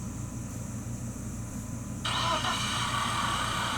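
A freshly assembled BMW M44 engine is quiet for about two seconds, then abruptly fires up and settles into a steady, close running drone.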